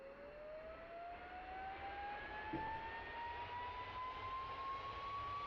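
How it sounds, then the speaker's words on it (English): Harrier jet engine spooling up during start in the DCS World flight simulator, a steady roar with a rising whine climbing in pitch over several seconds, loud and continuous with no talk. "engine start"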